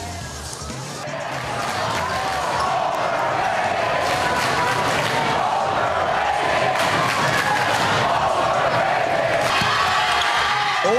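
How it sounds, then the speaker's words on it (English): Basketball crowd at a high school game in a gym, loud and sustained, with cheering and jeering at a player as the roar swells after the first second and holds to the end. "Duke commit Boogie Ellis, and he'll hear it from the crowd."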